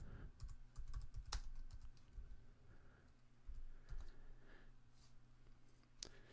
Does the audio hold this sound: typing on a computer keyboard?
yes